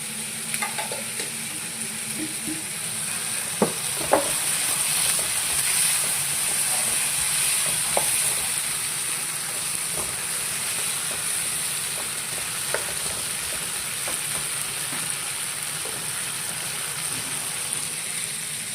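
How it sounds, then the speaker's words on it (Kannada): Tomatoes frying and sizzling in a pan for raw tomato chutney, a continuous close hiss with occasional light stirring clicks and scrapes, steady throughout with no speech. "ಇಷ್ಟು ಫ್ರೈ ಆದರೆ ಸಾಕು ಟೊಮೆಟೊ"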